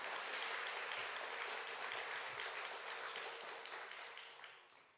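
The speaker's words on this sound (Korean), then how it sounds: "은혜 쓰는 교회는 이때 반드시 박수를 칩니다." A church congregation applauds in dense, sustained clapping that fills the room, holding steady for several seconds before beginning to fade toward the end.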